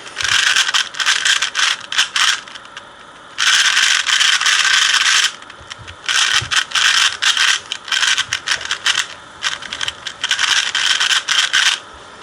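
Rapid, very loud plastic clicking and rattling from a speed cube being turned quickly, in bursts with short pauses between, close up with no talking.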